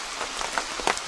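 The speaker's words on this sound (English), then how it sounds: "Been raining constantly now for about 6 or 7 hours." Steady rain pattering on a surface during a wet camp out with an arctic tent, a soft continuous hiss with scattered brighter drops, alone without talk.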